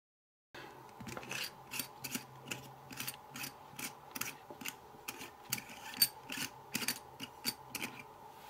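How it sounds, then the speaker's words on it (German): Hand unscrewing the cover of a Hydroselect three-way mixer tap, heard as a steady series of close, crisp ratcheting clicks in an even rhythm, with no voices. "Als nächstes die Abdeckung von Hand abschrauben."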